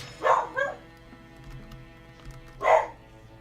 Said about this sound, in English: Frickin' dogs.